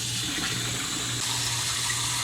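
Cold water gushing from a kitchen sink tap onto a pot after boiling eggs, a steady close rushing splash with no pauses.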